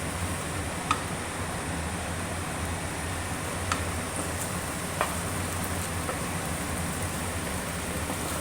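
Three medium-sized chopped onions fry in a pan until lightly browned, giving a steady, even sizzle that runs throughout with a few faint clicks and no talking.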